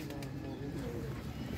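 A pigeon coos in low, soft tones beneath steady conversation, nearby, set against a constant loud background noise.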